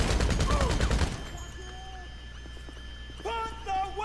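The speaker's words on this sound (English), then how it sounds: "My trusty combat MG." Combat MG machine gun fire in GTA V Online, a dense loud burst of rapid shots in the opening second, followed by quieter game ambience and brief tones.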